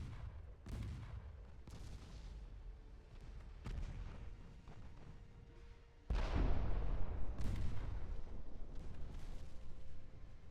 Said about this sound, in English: ammo detonation